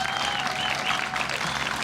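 Audience applause at a Juneteenth celebration, a steady wash of clapping from a crowd at moderate distance, sustained throughout without any talk over it.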